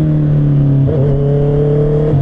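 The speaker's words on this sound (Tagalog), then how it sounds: "Andun din yung tunog na hinahanap natin sa inline 4." Honda CBR650R inline-four motorcycle engine holds a steady, loud, close-up idle-to-rev drone, its pitch climbing briefly near the one-second mark and holding higher before settling, no talk present.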